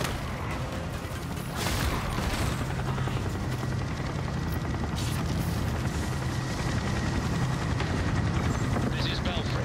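Helicopter in the Gotham Knights video game, a steady low rotor thrum running throughout under dense game noise with booms and gunfire-like bursts mixed in.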